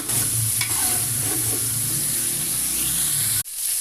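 Two medium onions fry in a pan for chicken pulao, a steady bright sizzle with soft stirring scrapes close by, cut off by a brief gap near the end.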